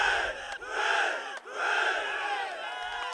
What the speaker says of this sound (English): And a final cheer off for the Lynx